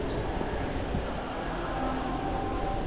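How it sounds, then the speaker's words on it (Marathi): Steady low rumble of a train moving through Ratnagiri railway station, a continuous loud mechanical roar with no talking. "हे बघा रत्नागिरी रेल्वे स्टेशन एअरपोर्टसारखं झालं आहे बघा"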